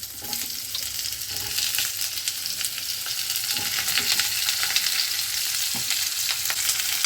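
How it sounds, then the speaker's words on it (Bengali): Vegetables, including stalks, going into hot oil with tempering spices and being fried and stirred, a close continuous crackling sizzle that builds slightly, no one speaking. "এবারে সবজিগুলো আস্তে আস্তে ছেড়ে দিচ্ছি।"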